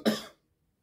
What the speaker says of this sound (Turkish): Ay bir tuhaf kokusu böyle öksürttü beni.